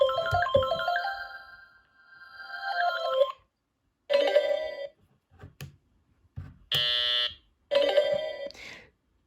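Bright electronic beeps and chiming tones from a Brain Bolt Genius handheld toy game, playing in short melodic bursts separated by pauses, loud and close.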